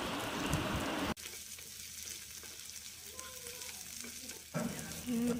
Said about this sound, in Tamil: வெங்காயம் சேர்த்ததுக்கு பிறகு அதையும் நல்லா கிளறிக்கலாம்.